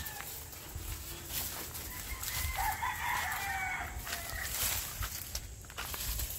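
Chickens and chicks at a chicken farm, with clucking and a rooster crowing at moderate distance over steady outdoor ambience and faint rustling.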